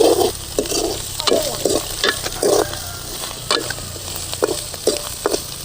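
Onions sautéing in a pan with ground ginger-garlic paste for a brinjal and drumstick gravy, a soft sizzle under frequent rhythmic scraping and clinking stirs of a spoon against the pan.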